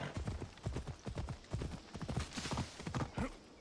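Rapid, rhythmic hoofbeats of a galloping horse in Assassin's Creed Odyssey, steady clip-clop thuds repeating close by without pause.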